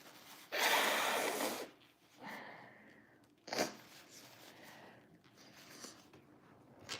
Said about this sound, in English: Hold on, I have to blow my nose.